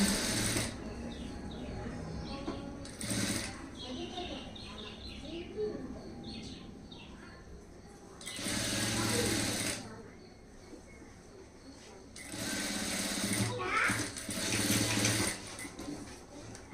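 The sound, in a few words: sewing machine stitching blouse shoulder joint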